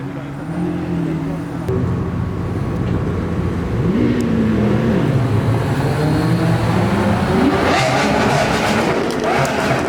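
At a car show, a Lamborghini Aventador SV engine revs outdoors, its loud tone climbing and falling over a steady idle, with brief voices nearby.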